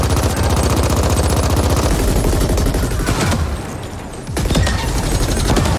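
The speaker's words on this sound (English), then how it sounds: "the guns and the explosions just sound magnificent" Rapid, loud gunfire rattles almost nonstop, heavy booms mixed in, with a brief dip in intensity before the barrage resumes; layered combat noise from the video game The Ascent.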